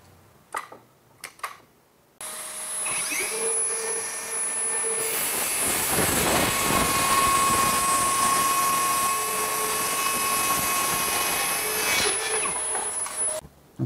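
A DongCheng DCMY125 mini circular saw makes a 45-degree bevel cut through a 2 cm thick pine board: a few taps, then a loud steady whining motor and a rasping cut lasting about ten seconds before it spins down.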